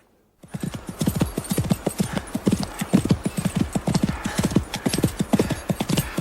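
Horses trot with riders aboard, their hooves striking the ground in a dense, steady clip-clop rhythm that sounds close and continuous throughout, with no talk over it.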